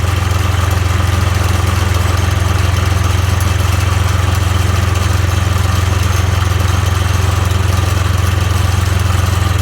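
A Case IH tractor with a loader runs steadily at close range, its loud, even engine drone and low throb continuing unbroken as the cold, slow hydraulic valve lifts the loader.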